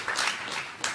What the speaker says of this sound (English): he deserves a major round of applause